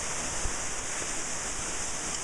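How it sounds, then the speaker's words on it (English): Waterfall on a river in Puerto Rico, a constant broadband roar of falling water, steady and close, with no voices. "This is just an amazing waterfall."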